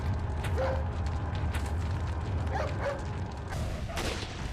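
A dog in the Resident Evil 4 video game gives a few short barks and yips, spaced irregularly over a steady low rumble of game background sound, moderately distant.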